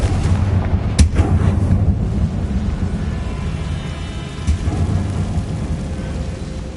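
Blasting spell bursts in a Harry Potter video game, a sharp crack near the start and another a few seconds later over a steady rumbling, rain-like background roar.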